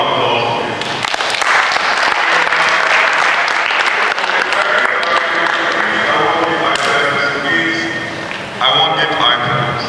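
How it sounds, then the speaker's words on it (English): Audience claps steadily through a school financial literacy talk, a dense, loud round of applause that holds for nearly ten seconds with slight dips and swells near the end. "Round of applause."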